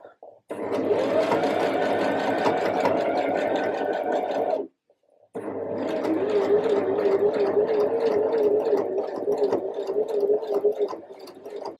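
A domestic sewing machine runs in two steady, whirring bursts with a brief pause between them, top-stitching around the bottom hem of a fabric crop top, close and fairly loud.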